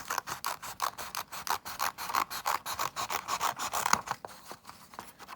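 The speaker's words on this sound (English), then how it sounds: "what you need to do is cut some strips along like this." Scissors snip thin strips from coloured-in paper for a craft fish, a quick run of crisp, close cuts repeating steadily, with no talk over them.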